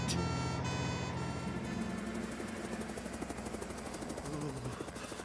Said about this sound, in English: Oh, that sounds like Tom's helicopter.